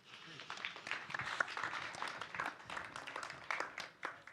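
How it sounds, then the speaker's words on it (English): Quiet audience applause for the two speakers at a fireside chat, StarkCity Denver: a faint, steady patter of many hands in a large room, with some talk mixed in. "give them a warm round of applause"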